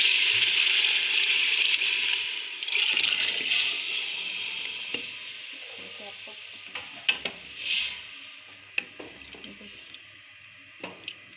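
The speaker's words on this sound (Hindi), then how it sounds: "अब इसमें मैं ये डाल दूँगी चने।" Chickpeas tipped into a sizzling masala in a cooking pot hiss loudly at first, then the frying quiets to wet stirring, squelches and occasional spoon knocks against the pot.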